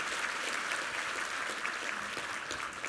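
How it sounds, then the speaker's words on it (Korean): Church congregation applauding after a special music performance at a Sunday worship service, a steady dense patter of many hands clapping that holds evenly for the whole span with no talk. "우리 한번 감사의 박수 한번 드리겠습니다."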